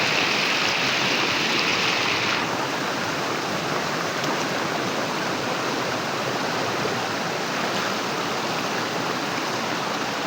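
Water rushes and churns in a steady, loud broadband roar, like a river flowing close by, with no voices.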